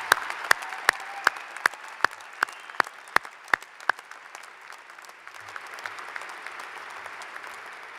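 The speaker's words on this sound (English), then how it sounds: "Please join me in a round of applause for our valedictorians and the rest of UVU's outstanding graduates." Commencement audience at a university graduation applauding valedictorians and graduates, a broad sustained roar of a large crowd clapping, with a few sharp, close claps standing out early before the applause settles into a continuous distant wash.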